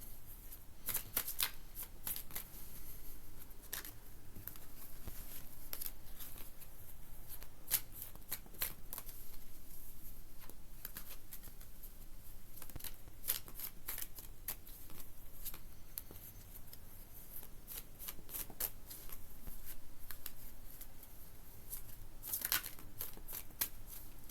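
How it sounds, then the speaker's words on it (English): Steady papery riffling of tarot cards being shuffled, continuous and close, with repeated bursts of flicking as the deck is bridged and squared. "I have to make sure I shuffle this correctly here"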